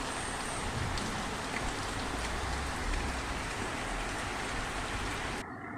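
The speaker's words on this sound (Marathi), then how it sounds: "आमच्याकडे पाऊस पडत आहे" Steady, dense rain falls continuously, a loud even hiss of drops on surfaces with no voices, cutting off abruptly at the end.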